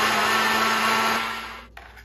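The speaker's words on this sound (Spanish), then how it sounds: "Vamos a licuar." A blender whirs loudly and steadily, mixing gelatin ingredients, then cuts off near the end and leaves a short quiet tail.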